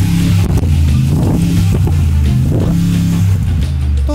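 Loud, deep rumbling roar of a Mercedes G-Wagon V8 engine exhaust in Sport Plus mode, sustained and close, with pulsing revs throughout.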